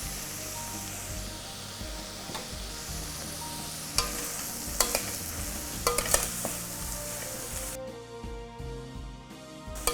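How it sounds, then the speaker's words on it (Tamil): Vegetables sizzle steadily in a pan as wheat semolina is stirred in for upma, a utensil scraping and stirring through it, with a few sharper clinks against the pan. "இந்த கோதுமை ரவையும் இந்த கறிகாயோடையே ஆட் பண்ணுறேன்"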